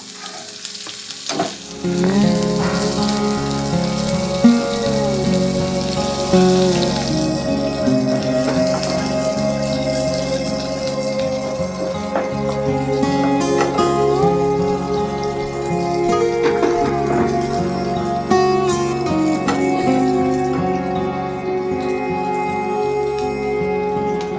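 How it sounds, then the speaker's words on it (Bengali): Onion, whole garlic cloves and spices fry in a pan for masala dosa filling, giving a loud, steady sizzle with crackling pops throughout, layered over a sustained tonal hum, with no voices. "এবার এগুলো আমরা এক মিনিট মতো ভেজে নেব"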